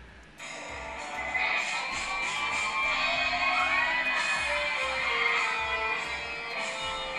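A concert crowd of fans screams and cheers in a dense, sustained roar that swells up after a quiet start and holds loud and steady throughout.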